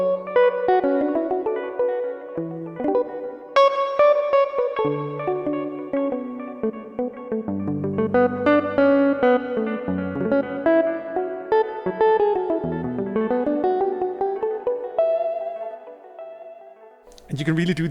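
A 1965 Mello D Maker guitar sample library moves from soft palm-muted notes into ringing sustained notes and chords, played alone with effects and reverb, getting busier and louder in the middle before fading near the end.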